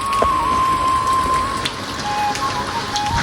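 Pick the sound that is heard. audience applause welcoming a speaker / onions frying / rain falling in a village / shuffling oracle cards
rain falling in a village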